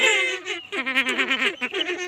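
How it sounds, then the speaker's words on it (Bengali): Captive purple swamphens kept in pairs make close, warbling, cackling calls in quick pulsing bursts. "এই পাখিগুলো খুবই সুন্দর কালিম পাখিগুলো।"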